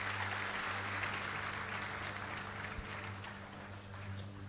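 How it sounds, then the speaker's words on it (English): Applause from an audience at a prosecutors' training session on resolving local government elections, a steady wash of clapping from many hands that holds for several seconds with a low hum underneath, fading slightly toward the end. "A round of applause, ladies and gentlemen."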